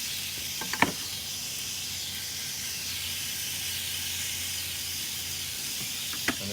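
Thin-sliced ribeye sizzling on a Big Green Egg griddle for a Philly cheesesteak, a soft, steady hiss with two brief sharp scraping bursts near the start and end, and no voices.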